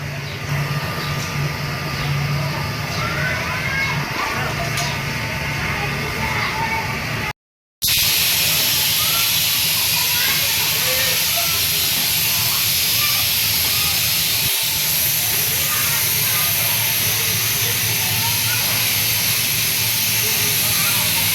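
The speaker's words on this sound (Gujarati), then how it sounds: "બોટલ કઈ રીતે ધોવાય છે કઈ રીતે પેક થાય છે બોટલ કઈ રીતે ભરાય છે" Soda factory machines washing, packing and filling bottles produce a loud, continuous hissing, rumbling roar throughout, broken only by a brief dropout partway through.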